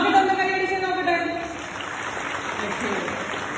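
A crowd at a Kattoor political gathering claps, a loose spread of applause rising after a speaker's voice fades, moderately loud and continuing steadily to the end.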